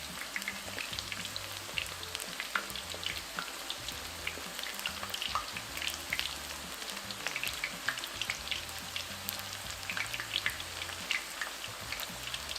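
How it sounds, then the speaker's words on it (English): Ground beef and potato taquitos fry in hot oil, giving a dense, even crackling sizzle that holds steady and close throughout, with no voices. "We're gonna continue to cook our taquitos until they're nice and crispy."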